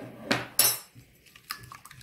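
Dry ingredients for beignet dough are stirred in a bowl, two clear scraping clinks of a utensil against the bowl followed by softer light taps and knocks, close and without speech.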